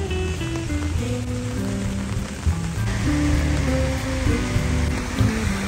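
Rain falls by the Pont des Arts along the Seine in Paris, with the Louvre nearby, as a steady patter of drops on surfaces at moderate level beneath some tonal background sounds.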